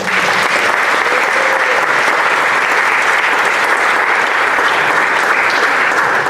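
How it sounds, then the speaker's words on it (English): A large audience gives a sustained round of applause at a Universal Orlando panel with the Diagon Alley creative designers, dense steady clapping filling the whole stretch at full loudness. "Let's give them a round of applause, please."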